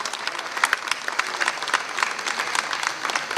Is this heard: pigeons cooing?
no